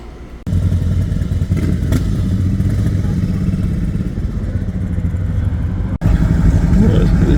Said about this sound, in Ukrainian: всякі мотоцикли.